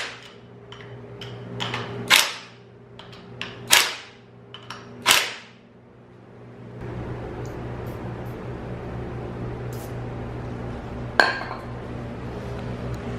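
Metal nuts for a JDM drift car build handled by hand, a few sharp clinks and clacks spaced seconds apart over a low steady background hum, with one more clink later and no talking.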